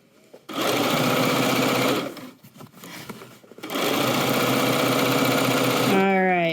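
A sewing machine stitches the seam of a tote bag in two long, loud, steady runs of rapid whirring, separated by a brief pause with light handling noises.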